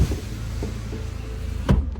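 Electric windows of a 2001 VW Golf GTI Mk4 1.8T three-door lowering: a steady, close motor whine runs for nearly two seconds and ends in a soft thump as the glass stops. No one speaks.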